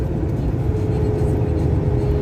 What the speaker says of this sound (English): I love this old truck.